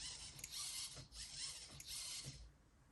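Aftermarket high-torque servo in a Traxxas TRX-4 RC truck moving back and forth, a quiet, smooth whirring in three short sweeps with faint clicks at each stop, heard alone up close.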